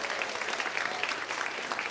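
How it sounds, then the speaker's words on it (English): Audience applause at a retirement home gathering, a dense steady clapping crowd sustained throughout at moderate loudness with no voices on top. "let's give him another big round of applause,"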